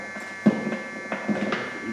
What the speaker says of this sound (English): This thing's kind of noisy sitting with the key on. There's some kind of solenoid on.